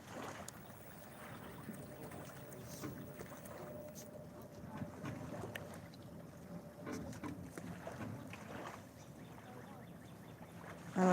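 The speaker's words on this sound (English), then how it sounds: "I like the sound of the water." Lake water laps gently around boats, a faint, continuous wash of soft splashes blended with light wind noise on the microphone, with no voices over it.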